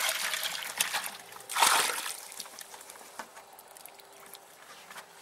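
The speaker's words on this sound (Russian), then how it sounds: "Проливаем водой" Water poured onto loose soil in a grapevine planting hole, a soft trickling splash that peaks briefly near the middle and then settles into a faint dribble and seepage.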